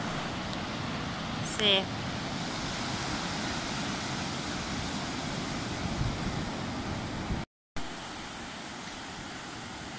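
Waves surge and wash onto a surf beach in a steady, loud roar, with a brief voice and a short dropout partway through.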